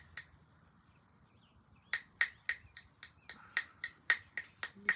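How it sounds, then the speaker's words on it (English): Very light percussive strikes knapping a Tallahatta quartzite blade, one tap and then a quick run of about a dozen sharp, close, stony clicks in a fairly even rhythm. "I'm just taking some very, very light strikes on this"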